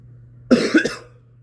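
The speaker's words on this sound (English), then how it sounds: "Hold up, I gotta cough." A single sharp cough bursts out close to the mic, a brief throaty hack with a quick second pulse, against a faint steady hum.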